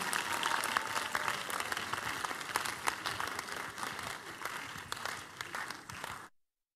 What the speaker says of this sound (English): Give him a big clap of praise.